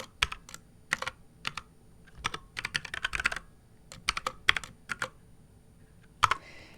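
Close, quiet clicking of a computer keyboard as a password is typed, irregular clusters of keystrokes with short pauses between bursts, no voices.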